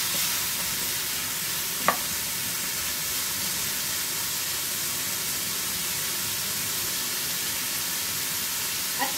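Spicy ingredients sautéing in a pan for gising-gising, giving a steady close sizzle and hiss throughout with a couple of faint clicks and no talking.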